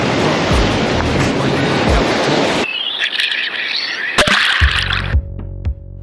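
Ocean surf churns and crashes below a Hawaii fishing pier, loud rushing white water for the first few seconds, then gusty wind and scattered knocks and rattles from close by, with no speech.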